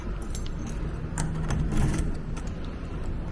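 Someone in an Airbnb apartment in Manila tries a smart key in a door lock. Keys jangle and the lock mechanism rattles and clicks in several short, close bursts, with no talking.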